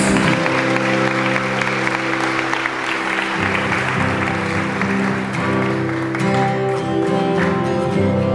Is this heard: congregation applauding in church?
yes